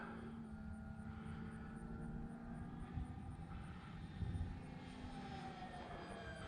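An E-flite T-28 RC model airplane on a 3-cell battery climbs overhead, its motor a faint, steady distant whine with slowly shifting tones throughout.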